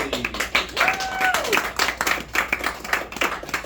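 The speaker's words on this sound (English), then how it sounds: "So give a round of applause for Mr. Straley" A small meeting audience claps in a modest, uneven patter of distinct handclaps, fairly close, with a brief whistle or cheer early on, continuing steadily throughout.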